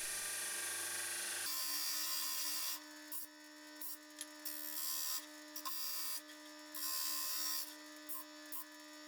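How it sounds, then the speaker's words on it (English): A workshop sander grinds cut aluminium pieces clean, its motor humming steadily as the metal is pressed on in repeated short scraping passes. "Now the pieces are cut out, they need to be cleaned up on the sander."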